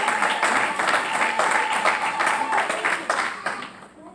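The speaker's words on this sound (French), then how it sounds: "Acclamons Jésus-Christ" A church congregation claps and applauds in a dense, continuous wash that fades out near the end, with voices mixed in.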